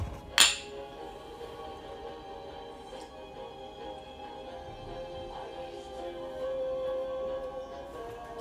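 Glasses clink together in a drinking toast: one sharp, bright clink near the start, then a low murmur of room sound and faint voices.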